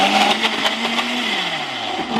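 A blender attachment on an all-in-one kitchen machine runs loudly on its smoothie setting, a close, steady motor whine whose pitch slowly sinks as the load churns.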